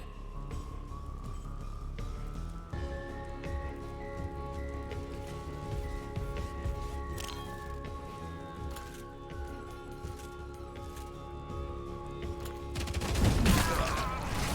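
Gunfire in the video game Showgunners: scattered sharp shots over a sustained tonal music bed, building to a dense, louder burst of firing near the end.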